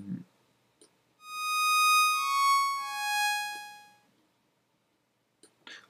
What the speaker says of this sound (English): I might actually keep them as sine waves and see what I can get.